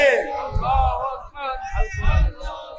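A crowd at a religious gathering chants the takbir, with loud rhythmic group shouts in two main bursts that swell and fade, and voices calling out between them.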